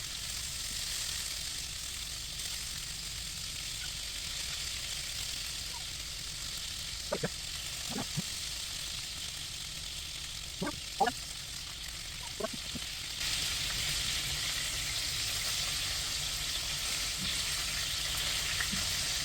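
Chicken pieces for crispy Korean-style rice bowls fry in a pan with a constant hiss, a few scattered clicks and taps as they are turned, and the sizzle growing a little louder toward the end.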